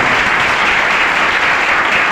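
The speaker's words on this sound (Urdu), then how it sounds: "ہم یسوع کے جلال کے لیے تالی بجائیں" A church congregation claps together in dense, sustained applause, loud and continuous throughout with no voices standing out.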